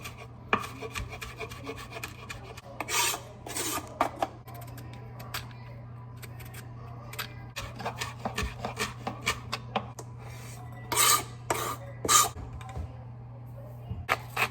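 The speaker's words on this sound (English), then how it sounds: "we're gonna rub this turkey like it's getting its suntan lotion on, like it's in for a massage." Turkey being rubbed by hand with butter, salt and pepper, making soft repeated squishing and rubbing strokes with occasional sharper handling noises over a low steady hum.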